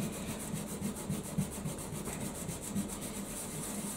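A scourer scrubbing an old, dirty oven surface by hand, a rapid rhythmic back-and-forth rasping scrub that runs steadily and close for several seconds.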